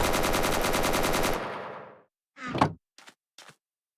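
A video game machine gun from a Minecraft guns mod fires a rapid, loud, continuous burst for over a second and then fades, followed by three short mechanical clacks like reloading or handling of the weapon.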